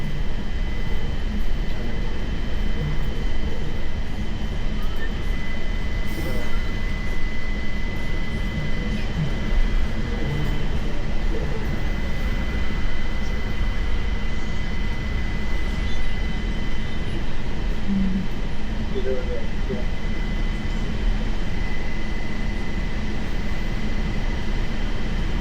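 JFK AirTrain car running between airport terminals: a steady, loud rumble of wheels and motor fills the whole stretch without pause, with a faint high whine on top and no talk.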